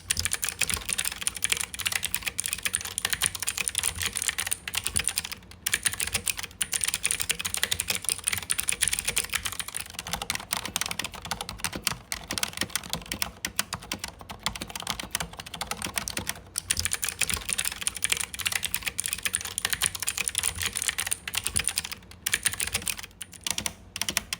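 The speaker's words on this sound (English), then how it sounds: "As with any mechanical keyboard, the first thing we need to check out is the typing feel." Steady, fast typing on a mechanical keyboard with blue switches, a dense stream of clacky keystrokes that runs continuously with only brief pauses.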